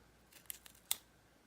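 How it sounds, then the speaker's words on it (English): Scissors snip through gaffer's tape in three quick, crisp cuts, close by, with no talking. "you can just take your scissors or an X-Acto knife"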